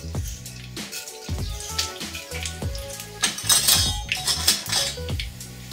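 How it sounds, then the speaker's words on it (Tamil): Mustard seeds dropped into hot oil in a pan for a tomato chutney tempering crackle and pop, with sharp metallic clinks of a utensil against the pan, the popping growing busier and denser toward the end. "எண்ணெய் வச்சுருக்கேன், கடுகு போட்டுக்கிறேன்."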